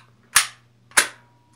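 Handgun slide racked twice to load it, two sharp metallic clacks about half a second apart, close and distinct against a faint steady hum.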